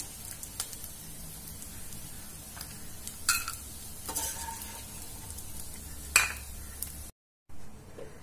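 Edible gum (gond) fries in ghee in a pan, giving a low, continuous sizzle with occasional scraping and stirring knocks, then cutting out briefly near the end.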